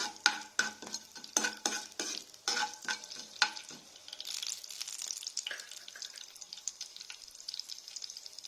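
A tempering of chana dal and urad dal goes into hot oil, with sharp, rhythmic clacks of a spoon stirring against the pan, followed by a softer, steady sizzle of spices frying.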